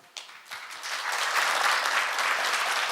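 An audience at an economics and financial stability conference gives a warm round of applause for the session's chair and panel, starting with a few scattered claps and swelling into steady, sustained clapping.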